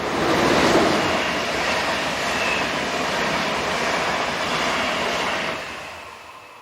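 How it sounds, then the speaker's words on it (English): Austrian locomotive 1116-261 hauling a Eurocity service to Vienna rushes past nearby, a steady loud rumble and rolling wheel noise that holds for several seconds and then tails off as the train clears. "This is 1116-261 with a Eurocity service for Vienna."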